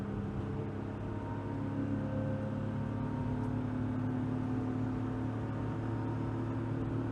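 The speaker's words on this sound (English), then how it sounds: "The pedal's floored. I'm accelerating 60 kilometers an hour." A kei van engine accelerates in fourth gear with the pedal floored, heard as a steady droning hum from inside the cab that holds at a constant level throughout.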